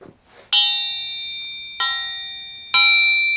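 A Model T Ford crankshaft, out of the engine, is struck three times for a crack test, and each strike rings out clear and bell-like with a long sustained tone that fades slowly, loud and close.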